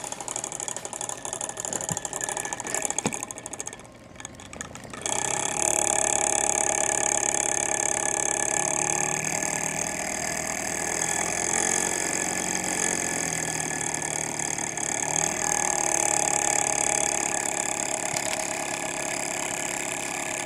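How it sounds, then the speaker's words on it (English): A Bedini motor rotor driven by pulsed power gives off a loud, steady mechanical whir with a constant tonal hum. Light ticking sounds come before it, and the whir begins abruptly partway through and then holds steady. "So we're pulsing the power in according to the speed of the rotor"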